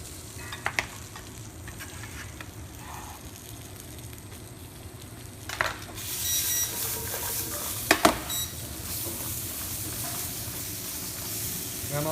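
Chili flakes and scallions hitting a hot pan of peas, setting off a steady sizzle and frying hiss that swells louder partway through, with occasional stirring clatter.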